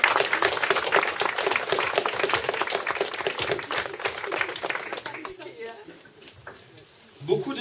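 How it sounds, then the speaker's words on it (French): Applause at a New Year's greetings gathering of a French party federation, brisk crowded clapping with a few cheers that gradually thins after several seconds, leaving scattered claps and murmuring voices. "Bravo! On les applaudit."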